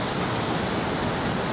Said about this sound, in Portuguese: A água vaza aqui, ó. É um barulho muito grande.